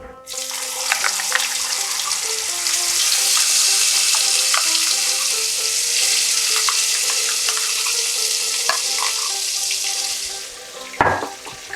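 Ground spice paste hits hot oil seasoned with bay leaves for a katla fish kalia and sets off a loud, close, continuous sizzle and spatter that lasts several seconds, then ends in a brief clatter.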